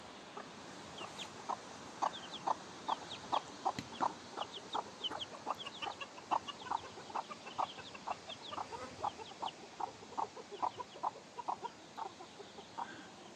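A hen clucks with her chicks in a flower bed, giving a steady run of short rhythmic clucks close by, mixed with faint high chick peeps and no talking.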